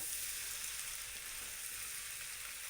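Noodles fry on low gas while two spoons toss them, a steady soft hiss of sizzling oil with faint stirring underneath, quiet and unbroken.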